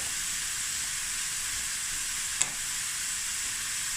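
Onions and jalapenos fry in a pot with a loud, even, continuous sizzle, broken once by a single small click, and no one speaks.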